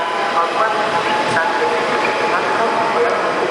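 Train departing from a station, a steady loud rumble and rolling noise with faint squeals, heard throughout with a brief sharper clank partway through.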